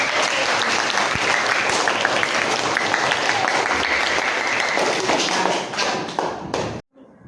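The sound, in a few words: schoolchildren applauding in class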